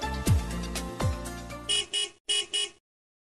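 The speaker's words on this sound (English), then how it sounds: "honking of vehicles" Several car horns honk in a row: two longer blasts followed by a few short, loud toots, with traffic rumble underneath.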